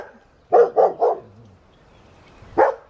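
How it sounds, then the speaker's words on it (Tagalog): A neighbor's dog barks three times in a quick burst, then once more after a pause, moderately close against an otherwise quiet outdoor background. "Yung aso naming kapitbahay."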